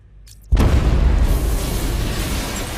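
A single heavy detonation in Batman Arkham Knight erupts suddenly after near silence, a loud deep boom that rolls on into a long rumbling wash of debris and noise.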